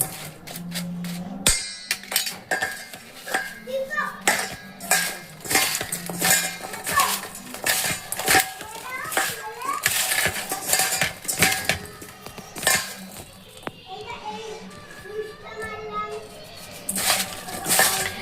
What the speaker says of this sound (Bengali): এগুলো হাত দিয়ে খুব ভালো করে আমি চামচ দিয়ে মিশিয়ে নেব